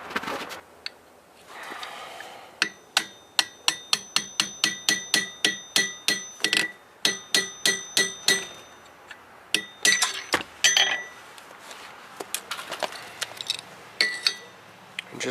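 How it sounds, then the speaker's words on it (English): Repeated sharp metallic hammer strikes on a punch and die driving through a coin to make a ring, a fast regular series of ringing clinks, then a looser, irregular run of taps. "I'll follow it up with another punch or something to push that all the way through"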